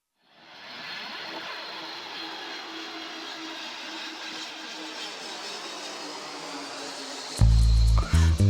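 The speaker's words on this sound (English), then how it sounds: "So start with the jet airplane." A jet airplane sound effect opens a slick, danceable song: a steady, loud roaring whoosh swells in and holds for about seven seconds, then the music cuts in abruptly.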